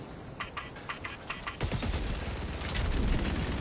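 A Helldivers 2 sentry gun fires a quick run of evenly spaced shots, then breaks into a dense, continuous roar of gunfire that stays loud and close. No voices.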